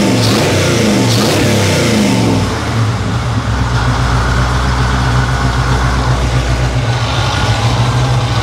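The growly engine of a Nomad car runs close and loud, revving at first and then settling into a steady low rumble, with no talking over it.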